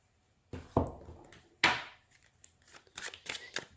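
A deck of tarot cards is cut on a table: two sharp slaps of cards, then a quick run of softer riffling flicks and taps, close and fairly quiet, with no talking.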